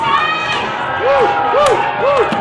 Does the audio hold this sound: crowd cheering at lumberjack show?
yes